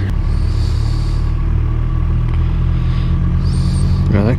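A battered car in rough shape rumbling and clattering past on a road, a steady loud engine drone close by, with no voices.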